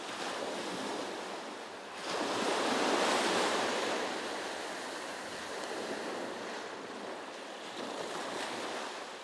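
Sea waves wash against the shore at Janjira Fort in Maharashtra, a continuous roar of surf that swells as a larger wave breaks midway, with wind buffeting the microphone.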